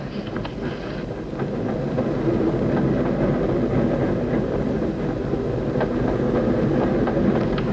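A train rolls along steadily, its low rumble and rhythmic clatter of wheels on track filling the scene, close and continuous.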